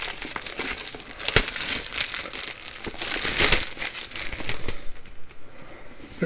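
Plastic wrap is peeled off the box of an Analogue Mega Sg console, giving close, continuous crinkling and crackling with a few sharp tearing snaps and a louder rustle in the middle.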